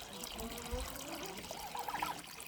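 Water trickles and pours into a container for chickens in a backyard farmyard, faint and close, while someone speaks briefly over it.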